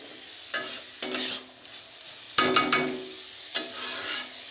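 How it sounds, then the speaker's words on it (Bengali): Vegetables being stirred and fried in a home kitchen pan, with bursts of sizzling and scraping in several separate strokes with quieter gaps between them, close and moderately loud. "সবজিটা ভাজা প্রায় হয়ে গেছে"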